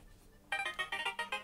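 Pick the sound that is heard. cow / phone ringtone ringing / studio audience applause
phone ringtone ringing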